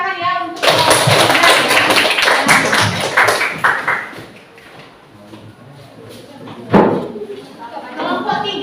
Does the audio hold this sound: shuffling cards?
no